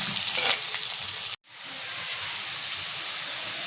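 Onions frying in a pan for dam ka keema, a steady close sizzle and hiss that breaks off abruptly for a moment, then resumes as an even frying hiss.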